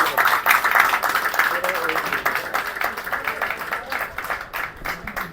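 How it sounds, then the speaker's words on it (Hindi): An audience claps for newly elected leaders at a journalists' union election event, the applause moderate and steady and mixed with voices. "तालियां बजाएं।"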